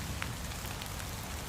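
Rain falling steadily on a camping canopy at an outdoor campsite, a dense continuous patter that stays even and fairly loud, with no voices.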